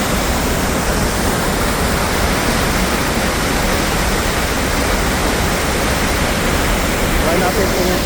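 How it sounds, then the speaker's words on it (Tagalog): Crescent Falls waterfall in Alberta roars as a loud, steady wash of rushing water filling the whole scene without a break. "Yan yung falls."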